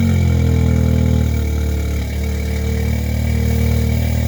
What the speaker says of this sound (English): But let's get a cold start in the meantime.